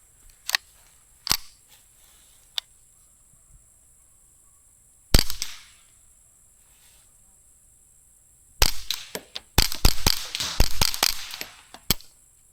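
Ruger 10/22 rifle fired from a 25-round magazine: a few sharp isolated shots, then a rapid burst of cracks in quick succession, crisp and close against quiet outdoor background.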